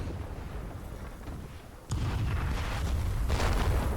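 Heavy gunfire and booming artillery during a massive fort assault in the video game Call to Arms, a dull rumble that suddenly jumps louder midway into a continuous roar of shots and blasts.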